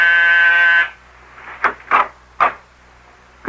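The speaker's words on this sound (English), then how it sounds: "I was just about to leave when my door buzzer sounded." A door buzzer in a radio drama gives one steady, loud electric buzz lasting under a second, followed by faint footsteps and small knocking sounds as someone goes to answer.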